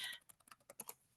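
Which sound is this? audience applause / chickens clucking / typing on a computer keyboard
typing on a computer keyboard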